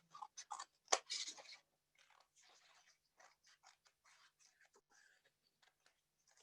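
Scissors cutting out a paper card template for a pop-up snowman card, quick crisp snips at first, then a longer train of soft, faint, close trimming cuts with no voices.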